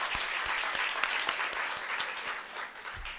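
An audience at a public event in DeKalb claps together in a steady burst of applause, many hands at moderate distance, fading slightly toward the end with no talking.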